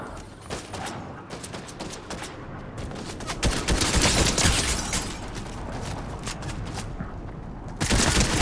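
Gunfire in the Fortnite video game, with rapid bursts of loud shots crackling almost continuously and dense volleys that swell in the middle before a final loud burst near the end.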